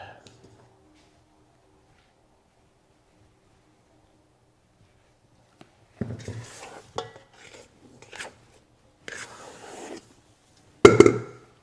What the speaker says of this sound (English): Just take your dough scraper itself, kind of release it from the sides